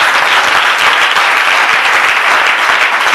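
A church congregation at a French-language seminar applauds, heard as dense, loud, steady clapping from many hands throughout.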